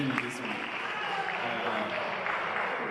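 Audience applause at a church national camp meeting during an entrepreneurship session, a dense, steady wash of clapping that holds for about three seconds.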